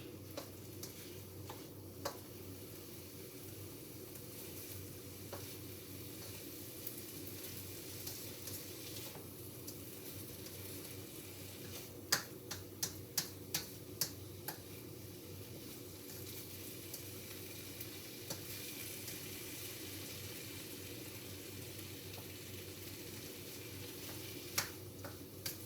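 Fresh or frozen vegetables sizzling steadily in a pan, a soft continuous hiss with occasional faint ticks and clicks from the stove, no voices.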